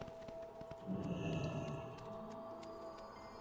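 Hooves clip-clop at a walking pace in the World of Warcraft Shadowlands video game, a soft rhythmic horse gait under game ambience, with no talking.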